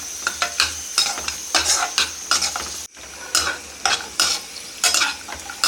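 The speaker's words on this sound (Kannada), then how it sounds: "ಲೈಟಾಗಿ ಕಲರ್ ಚೇಂಜ್ ಆಗೋ ತನಕ ಇದನ್ನು ಫ್ರೈ ಮಾಡ್ಕೊಳ್ಳಿ" Moong dal, with raisins and cashews, frying in a pan while being stirred, close and steady sizzle broken by scraping spoon strokes and one brief pause midway.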